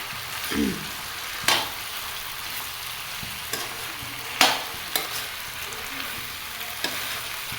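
Mixed vegetables with carrots stirred and fried in a pan, a steady sizzling hiss punctuated by several sharp scraping strokes and knocks of the spatula, close up with no speech.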